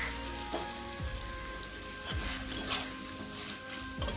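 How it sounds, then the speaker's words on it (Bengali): Chopped onion and green chilli frying in a pan with spices, a continuous soft sizzle and crackle with a few clinks of a utensil stirring, close and fairly quiet. "পেঁয়াজটাকে একটু ভাজা ভাজা করে নেব"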